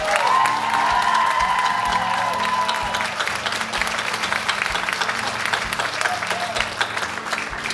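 A crowd at a community recognition evening in Pessamit claps for Myriam, with dense applause at the start, a brief whoop or whistle early on, and steady clapping throughout.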